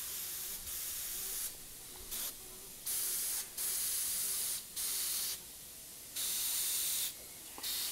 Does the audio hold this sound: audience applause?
no